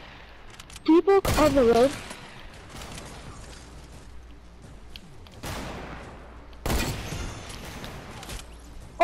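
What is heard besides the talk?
sniper rifle gunfire in a video game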